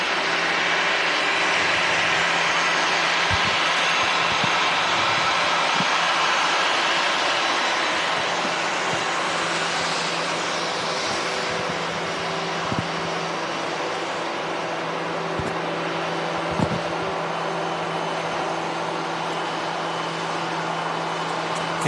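An Air France A320 airliner arriving at Manchester Airport from Paris, a steady distant jet roar with a sustained low hum and faint whine throughout, no talk.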